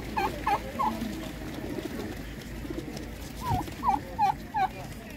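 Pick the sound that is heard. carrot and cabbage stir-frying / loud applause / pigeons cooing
pigeons cooing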